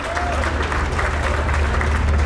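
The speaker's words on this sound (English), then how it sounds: "Warm applause by the capacity crowd." A capacity crowd at a boxing fight night applauds in a dense, continuous roar of clapping, loud and even throughout, with a low hum beneath and faint crowd murmur mixed in.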